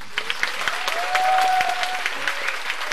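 Theatre audience applauding during a musical's closing-night curtain call: sustained, dense clapping filling the hall, loud and even, with a rising whistle or cheer above it.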